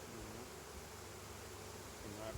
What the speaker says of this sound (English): But they are roaring like I have the queen out.